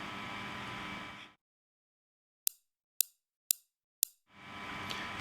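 Four very short, spiky closed hi-hat ticks from a Metrum synth, gated to about five milliseconds, sound in quick succession, with sustained noisy sound before and after them.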